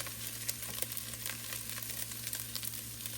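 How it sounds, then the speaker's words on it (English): Pepperoni and ground beef cooking together in a pan, a low, steady sizzle and crackle of frying meat with occasional soft pops, heard close and fairly quiet, with no talking. "So I'm gonna add the pepperoni to the ground beef. Let that cook along with it."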